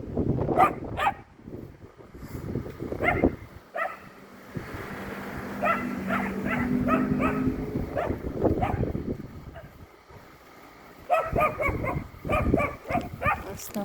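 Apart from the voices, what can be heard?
dog barking and whimpering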